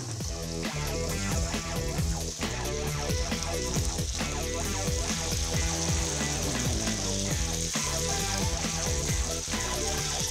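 Onion sautéing in a pan of vegetable oil, a steady dense sizzle and crackle running unbroken for about ten seconds with no talking.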